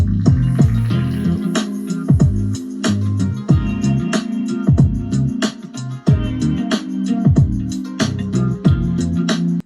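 A blues beat with funky drums and bass plus a harp melody layered on top, playing steadily and loud from start to finish with a regular, punchy rhythm.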